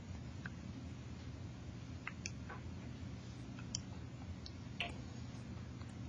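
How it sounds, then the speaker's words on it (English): Soft, sparse clicks of fingers pressing calculator keys while entering a summation, faint and irregular over a quiet background hum. "Just typing this in."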